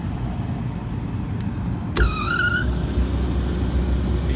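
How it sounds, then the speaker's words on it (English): The indoor blower motor of a York package HVAC unit kicks on with a sharp click and a brief squealing whine that settles into a steady low hum, heard close over constant background noise. "I just heard the indoor blower kick on"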